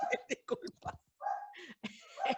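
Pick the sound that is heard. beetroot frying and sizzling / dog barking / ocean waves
dog barking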